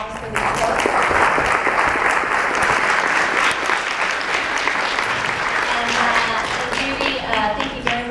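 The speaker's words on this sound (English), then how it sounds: "If we can give a round of applause for these folks." An audience claps for conference panelists at a women-in-science event, a sustained, loud roomful of applause that stays steady throughout, with a voice faintly underneath.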